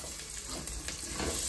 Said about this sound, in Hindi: गार्लीक मातशें फ्राय कराय.